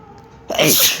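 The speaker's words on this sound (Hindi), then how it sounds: "सॉरी, छींक आ गई मुझे।" A single close, loud sneeze bursts out suddenly after a quiet moment.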